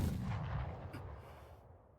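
A gunshot in the anime Dr. Stone, one deep, booming report that rolls out and slowly fades.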